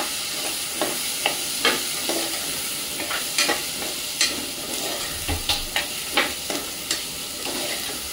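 Spices sizzling steadily in oil in a pan for a clam curry, with repeated scraping strokes of a spoon stirring them, close and loud, alone without talk.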